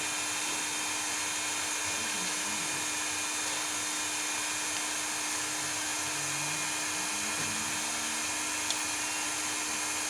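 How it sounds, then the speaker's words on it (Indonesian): Cooling fans run inside a 2000 W low-frequency inverter under load as it warms up, a steady, loud whirring hiss with a constant hum and faint whining tones throughout. "di sini kipas atau fan-nya sudah berfungsi dengan normal ya"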